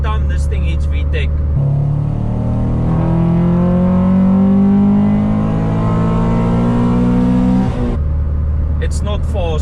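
Honda Civic with a B20 VTEC engine revving hard under acceleration, a loud rising engine howl climbing steadily in pitch through the gear as VTEC engages, heard from inside the car, with brief talk before and after.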